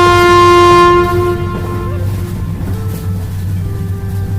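A cartoon train sounds a long, loud horn blast as it rolls past, followed by a steady rumbling of wheels and carriages that continues to the end.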